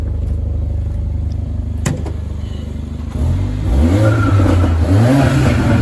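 A turbocharged 2-litre four-cylinder car engine idles, then revs up with rising and falling pitch sweeps, loud and close, climbing through several throttle blips.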